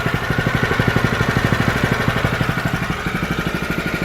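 A lawn mower chews through grass left two weeks uncut, its engine pulsing in a fast, even chug that stays close and loud throughout, with no talk over it.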